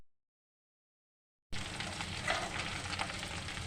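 Chicken liver fries in a pan after a second and a half of silence, then a steady dense sizzle holds close and even to the end, with a few faint stirring touches mixed in.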